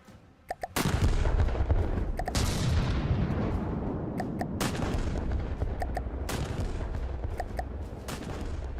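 Particle cannons blast in a Wreckfest-style video game, a dense barrage of booming, crackling shots that hit in sharp bursts and then roll into a sustained loud roar of fire.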